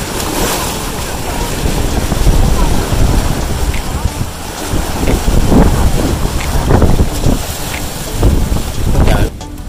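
Strong wind buffets a microphone outdoors by the water, producing loud, gusty rumbling that rises and falls in waves.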